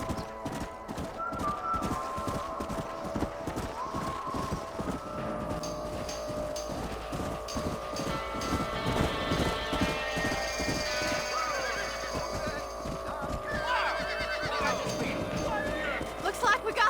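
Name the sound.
horses walking and neighing in video game Red Dead Redemption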